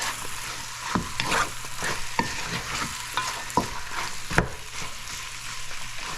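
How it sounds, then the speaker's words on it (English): Chicken searing with spices in a pan sizzles steadily, broken by repeated scraping stirs and utensil taps against the pan. "So our chicken has been searing with the spices."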